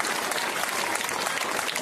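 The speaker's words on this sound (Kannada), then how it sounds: "ಎಲ್ಲರೂ ಜೋರಾದ ಚಪ್ಪಾಳೆಯನ್ನು ನಮ್ಮ ಸರ್ ಅವರಿಗೆ" An audience at a school event claps in dense, steady applause that fills the whole moment, loud and close with no gaps.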